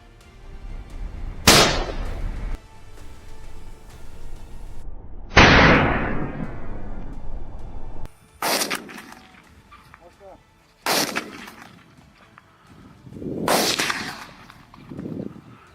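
Gunfire rings out during a large-scale wild boar hunt in Texas: five sharp, loud shots spaced a few seconds apart, each trailing off in an echo across open country.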